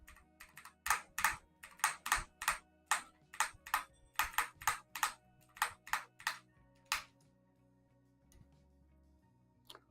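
Someone types on a computer keyboard in bursts of sharp, close clicks, fast then slowing, before the keys stop and only a faint background hum remains.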